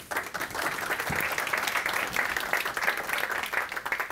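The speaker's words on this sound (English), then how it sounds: "I even get an applause." An audience at a Brussels conference on European electric cars applauds as the ACEA chairman, Renault's chief executive, takes the stage; moderate, fairly distant clapping continues steadily throughout without voices.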